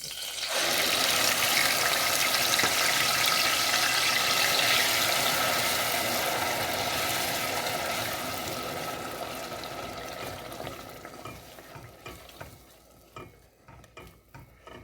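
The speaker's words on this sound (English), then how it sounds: "our red oil is hot already. I'm just going to pour my blended pepper and onions." A loud, steady sizzle of blended pepper and onions poured into hot red oil, with bubbling and crackling that slowly settles and grows quieter toward the end.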